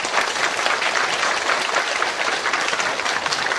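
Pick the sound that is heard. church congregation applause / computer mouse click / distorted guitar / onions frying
church congregation applause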